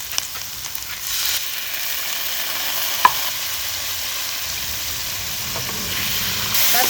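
Onions, garlic and soy sauce sizzle and hiss steadily in a hot frying pan while being stirred, one sharp utensil clack near the middle standing out over the continuous fry; a sweet and savory chicken dish underway, no talking.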